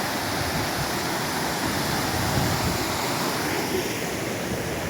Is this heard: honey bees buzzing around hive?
no